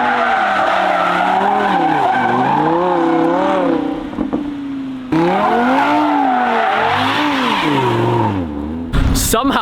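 Lamborghini Huracan doing a burnout with traction control off and the wheel turned full right, engine wailing and rising and falling in waves over continuous tire skid, briefly cut around four seconds then resuming loud and close.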